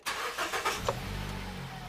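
Car with an automatic gearbox cranking over for a second before catching, then settling into a steady low idle, close by with no talk.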